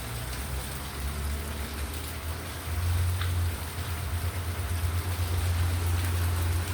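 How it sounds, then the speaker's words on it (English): Steady rain falls in a residential neighborhood, heard from a porch, a continuous hiss with a low rumble that grows slightly heavier partway through, no voices. "check out this rain here in my neighborhood"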